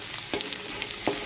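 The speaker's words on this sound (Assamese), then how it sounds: "আদা, নহৰু, জলকীয়া দি দিলোঁ, এইখিনি অকণমান ভাজি ল'ম।" Ginger, garlic and green chilies sizzle in hot oil in a pan, a brief, close crackling fry with faint stirring scrapes.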